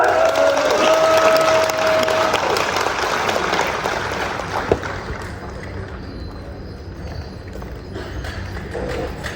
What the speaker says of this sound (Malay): Tepukan kamu.